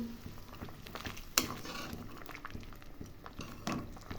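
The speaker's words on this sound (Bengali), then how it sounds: "ঝোল ফুটে গেছে" Curry broth seasoned with cumin powder bubbling in a cooking pot, a low steady simmer with a sharp utensil clink near the start and another knock later, no voices.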